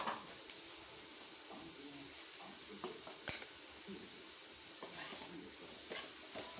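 Spices, dried coriander and pomegranate seeds, lightly frying in a pan for a samosa filling give a soft, steady, quiet sizzle with a few small clicks and one sharp tap partway through.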